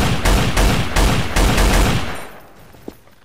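An M249 machine gun in Garry's Mod fires a rapid, loud automatic burst of about eight evenly spaced heavy shots, then stops and leaves a fading tail and a small click.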